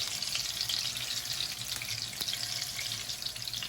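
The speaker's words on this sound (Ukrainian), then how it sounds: "Смажена щука." Pike frying in a pan gives a steady, close sizzle and crackle of hot oil, with a few faint clinks and no talking.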